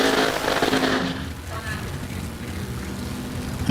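An alcohol funny car makes a drag racing run at the Texas Nationals 2021 with a thunderous, very loud roar for about a second, then drops to a lower, rumbling wash of noise.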